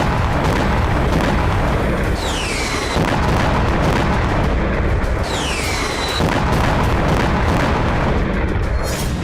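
Air strike explosions in southern Lebanon boom and rumble through a dense, continuous roar, with several heavy blasts and whistling streaks arriving one after another, loud and sustained throughout.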